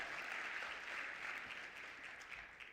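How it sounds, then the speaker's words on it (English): An audience at a BEYA awards gala gives steady applause for a gospel choir that fades slightly toward the end. "give them another round of applause"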